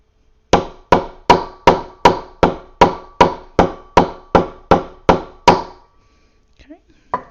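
A mallet pounds a leather passport cover in a steady run of about a dozen loud, evenly spaced thuds, followed by a brief quiet with faint handling sounds.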